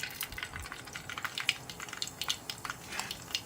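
Mustard seeds and cumin sizzling and crackling in hot oil while tempering for a drumstick-leaf kuzhambu, with a steady bed of fine irregular pops and spits close up, no voices.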